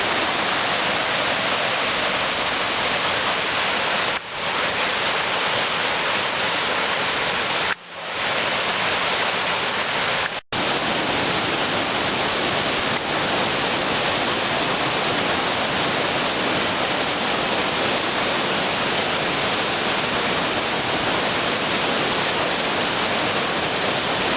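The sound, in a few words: flowing mountain river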